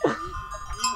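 A young lamb gives a short, close bleat at the start, followed by a fainter bleat near the end amid farmyard noise, with a faint voice in the background.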